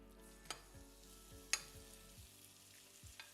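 Courgette batter fries in hot olive oil in a pan with a soft, steady sizzle, broken by a few sharp clicks and scrapes, quiet and close, with no voices.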